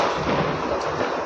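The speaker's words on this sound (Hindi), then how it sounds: "बाहर पटाखे फूंक रहे हैं" Firecrackers bursting outdoors during Diwali celebrations in Mumbai on a windy night, a dense, continuous crackling wash with distant pops blended together, steady and moderately loud.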